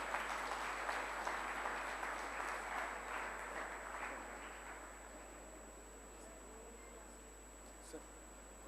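Audience applause welcomes Dr. Bhatia at a formal Hindi-language gathering, a faint, distant wash of clapping that is strongest at first and gradually thins out and fades.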